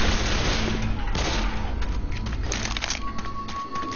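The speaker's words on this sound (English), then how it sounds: "What is up with you shooting me?" Gunfire in the zombie shooter Left 4 Dead 2, with dense overlapping shots and booms forming a steady loud barrage over a busy game backdrop with a faint tone.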